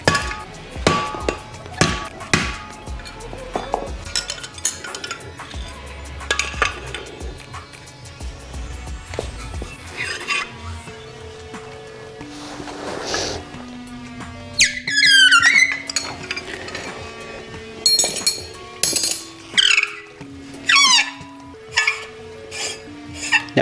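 Sharp metallic hammer blows and clinks strike a seized strut nut during a coilover install on a 2008–2014 Subaru WRX sedan, coming in irregular bursts, some close and ringing, with scraping and tool clatter between.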